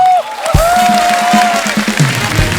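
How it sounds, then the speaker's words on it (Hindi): A studio audience bursts into loud, sustained applause and crowd noise for superstar guests on a Hindi talk show, with a held vocal tone or cheer riding over the dense clapping. "हमारे सुपरस्टार्स के लिए जोरदार तालियां।"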